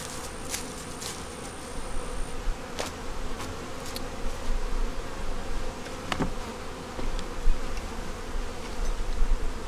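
Honey bees buzz around an open hive during an inspection, a dense continuous hum close by with individual bees droning past, and occasional light clicks and knocks from handling.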